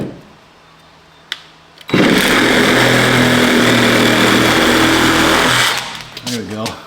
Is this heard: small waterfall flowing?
no